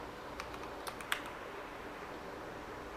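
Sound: typing a command on a computer keyboard

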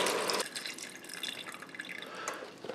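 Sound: chicken broth poured into pot

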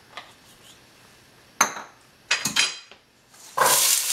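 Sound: sautéing carrots in a hot pan

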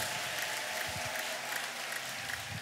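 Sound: congregation applauding for Jesus

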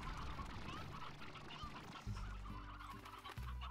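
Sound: chicken (roostro) clucking in the video game Slime Rancher

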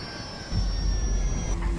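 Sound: plane coming down in Grand Theft Auto V video game

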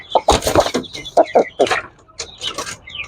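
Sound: Japanese Tanaka Shamo chicken clucking

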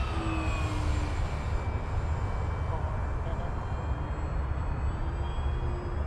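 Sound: FMS F4U Corsair RC model airplane flying

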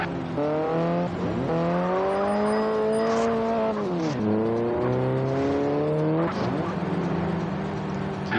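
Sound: sports car accelerating in a video game

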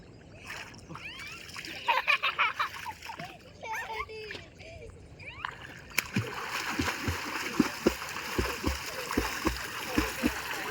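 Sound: water splashing as children learn to swim

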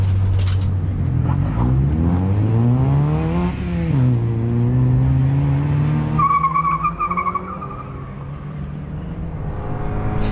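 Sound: Toyota Yaris racing lap at Curborough Sprint Course

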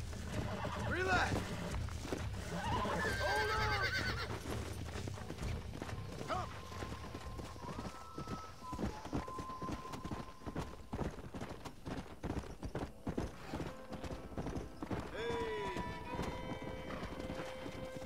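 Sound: horses neighing and hooves clip-clopping in video game Red Dead Redemption

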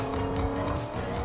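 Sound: car driving in Fortnite video game

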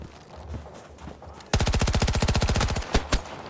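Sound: machine gun fire in video game Battlefield 2042

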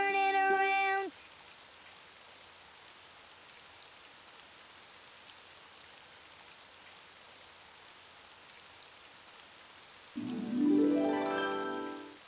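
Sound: rain falling outside

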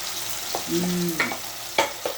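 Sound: stirring spices into a frying curry

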